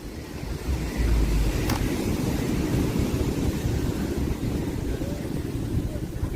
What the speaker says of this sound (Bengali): তো আমরা এখন চলে এসেছি আঞ্জনা বিচে।